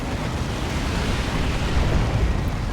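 Orbital strike in a Dawn of War 2 battle: a broad, rumbling blast roar that fills the whole stretch, loud and sustained like a long eruption, swelling slightly toward the end.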